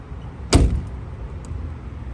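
A single solid thunk of a door being shut on a Subaru-swapped 1971 Volkswagen Type 2 camper bus, sharp and close, followed by quiet background hum.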